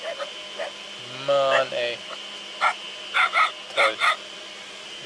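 A pack of dogs barks at a car on a rural road in Vietnam, several sharp barks in quick bursts nearby, while someone talks in German over them.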